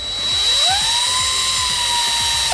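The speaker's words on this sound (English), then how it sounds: "It's a variable speed drill. I can control the speed with the trigger." A variable speed power drill, used on a stripped bicycle headset top cap bolt, spins up quickly to a loud, high steady whine and holds there, close by, with a small clunk at the very end.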